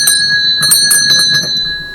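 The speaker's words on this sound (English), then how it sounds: "Ring the doorbell." Doorbell in the video game Contradiction, a bright, loud electric ringing in several quick repeated bursts with sustained tonal hum between them.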